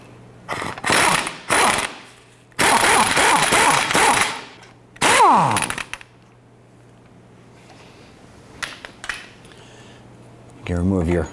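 A 17 mm socket on an impact wrench loosens the upper strut nut on a 2009-2015 Honda Pilot, with several loud broadband bursts of a few seconds each, a brief whine, then quieter clicks and handling, with talk between bursts.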